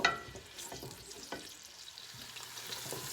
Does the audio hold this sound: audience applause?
no